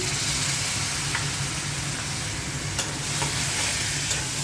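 A little water poured into spices (coriander, turmeric, dried chilli, cumin, salt) frying in a pan, giving a loud, constant sizzling hiss with a few faint clinks of stirring.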